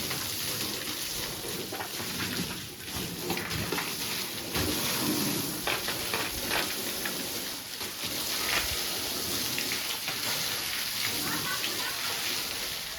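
Water runs steadily through a pipe during cleaning in a village home, a continuous hiss-like rush that fills the whole stretch at an even level, with faint voices underneath.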